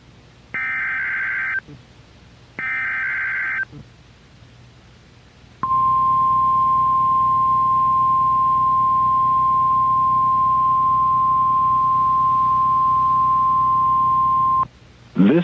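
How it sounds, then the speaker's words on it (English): A NOAA Weather Radio warning-device test sends two short beeps, then a long, loud, steady alarm tone of about nine seconds. "The alarm tone just transmitted should have been heard on any operating receiver."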